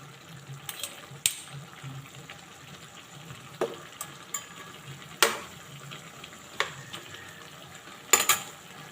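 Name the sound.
carrots and potatoes cooking in a pan for igado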